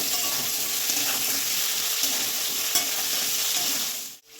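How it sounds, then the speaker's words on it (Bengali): Cauliflower, potato, carrot and beans fry in a pan with a continuous close sizzle and the scrape of stirring, with no voices. "ফুলকপি আলুটা ভাজা হয়ে গেছে, এবার এর মধ্যে গাজর দিয়ে দেবো আর দিয়ে দেবো বিনস। এবার আরও 5 মিনিটের মতন ভাজবো ওগুলো।"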